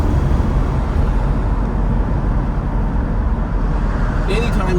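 An original 1965 Chevrolet Corvette Stingray cruising, its engine drone and tire-and-wind noise holding steady and loud up close, with a brief higher rattle near the end.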